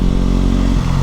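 Loud motorbike exhaust booming inside a tunnel, a dense, steady low roar close by that fills the brief moment.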